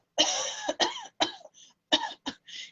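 A voice imitates coughing, a series of harsh, breathy bursts in quick succession, close and fairly loud, with brief gaps between them.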